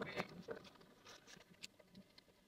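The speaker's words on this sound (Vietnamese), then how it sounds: "Có những đoạn thì là mưa rất là to, có những đoạn thì là nó mưa nhỏ." Rain falling during a long road trip toward Bac Ha in northern Vietnam, a soft, quiet, steady patter with scattered faint drops and no voices.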